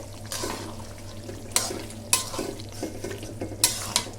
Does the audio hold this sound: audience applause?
no